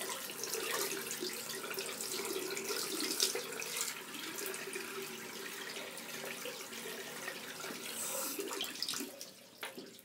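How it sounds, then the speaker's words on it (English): Water runs steadily from a tap while a shaving brush is rinsed under it, a close, loud, continuous splashing hiss that slightly shifts as the brush moves through the stream, with no talking. "Rinsing out the brush."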